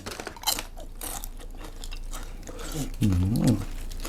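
Papaya salad with thin rice noodles and crispy chicken skin being eaten, with brief crunchy bites and chewing close up, partly under talk and a sustained voiced sound near the end.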